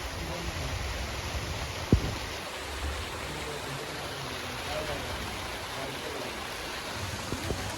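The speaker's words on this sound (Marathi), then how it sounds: "गाईज फायनली पाऊस पडायला लागला आहे" Soft, steady rain falling outdoors near farmland, a faint even hiss with a few small knocks and no talking.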